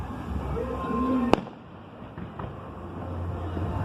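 Fireworks display at Woking Park in the UK: one sharp bang stands out, followed by fainter distant pops and crackles over steady outdoor wind and background noise.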